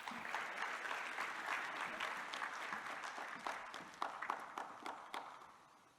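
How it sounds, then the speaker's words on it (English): At a closing ceremony, a moderate audience applauds with steady clapping, fairly quiet and somewhat distant. A few individual claps stand out toward the end as the sound gradually dies away. "Let's give her a round of applause,"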